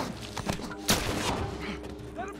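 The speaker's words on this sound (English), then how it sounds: "Who's shooting at me?" Bursts of gunfire ring out in The Last of Us Remastered, several sharp shots cracking loudly over a dense, rumbling game soundscape.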